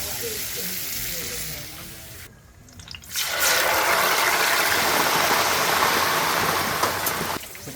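Sizzling gambas crackle loudly on a hot plate at a beach lounge on Bantayan Island, a dense, close hiss that dips briefly, then surges back strong and steady, with voices audible beneath.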